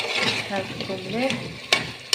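Tomatoes and harissa stirred in a hot pan, giving soft sizzling and scraping with a few sharper clinks of the utensil against the pan, close and moderately quiet.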